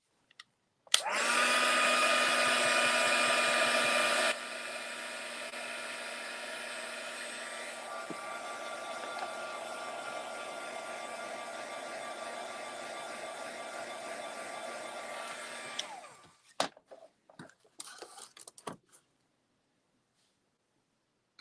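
A hair dryer drying paint on a painting blows as a steady, loud, close roar that drops slightly in level partway through, then shuts off and gives way to a few light handling clicks.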